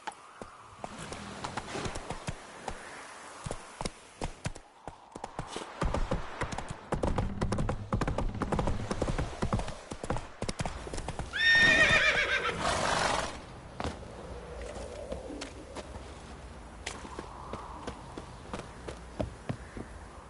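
The horse Roach from The Witcher 3 video game clops and trots, then lets out a loud, drawn-out neigh midway through, followed by further hoof taps and game ambience.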